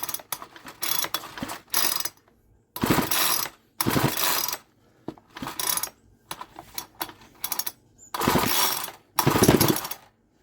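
A Ryobi 4-stroke petrol strimmer is pull-started with the choke on after priming; each cord pull gives a ratcheting rasp as the engine splutters in uneven bursts, with short quiet gaps between and no talking.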